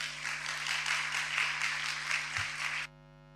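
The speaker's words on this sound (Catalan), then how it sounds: "demane un fort aplaudiment per a Lucía Beamut" An audience at a youth presentation on preventing gender violence claps steadily for about three seconds, a dense even patter that stops abruptly, leaving only a faint hum.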